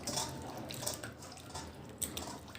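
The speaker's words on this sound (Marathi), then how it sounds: "हे जे चिप्स आपण पाण्यामध्ये टाकलेले आहेत व्यवस्थित असे ह्या पाण्यात आपल्याला धुवून घ्यायचे" Quiet sloshing and trickling of water as sliced potato chips are swished around and washed, with a couple of small splashes, soft and close.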